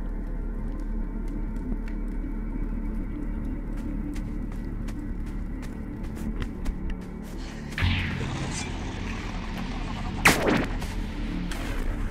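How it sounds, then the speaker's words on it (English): An atom cannon fires in the Aliens After Ava video game: a couple of sharp, loud blasts ring out over a steady low game hum and scattered clicks. "Press S, use your atom cannon."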